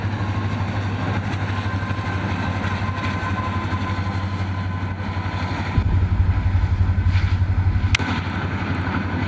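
A BNSF freight manifest rolls past close by on the Cajon Subdivision mainline, a steady loud low rumble of wheels and cars with a heavier surge near the end and a sharp clank.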